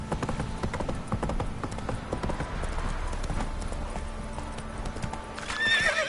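A horse gallops in The Witcher 3 on PS4. Rapid rhythmic hoofbeats clatter continuously and close. A whinny rises near the end, and a rider briefly urges the horse on.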